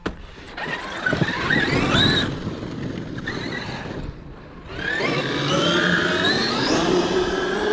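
Traxxas X-Maxx Sledgehammer RC monster truck motor revving outdoors, a buzzing whine that rises and falls in bursts, briefly dropping away before surging again under light wind noise.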